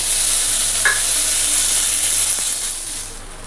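Dry red chillies, cumin seeds, bay leaf and onion fry in leftover oil from frying paneer, giving a steady loud sizzle with a brief stir scrape near the start, easing off slightly toward the end.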